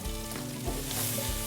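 Chopped green onion stir-frying in a hot pan, a steady loud sizzle with a short burst of crackle and soft stirring, close by.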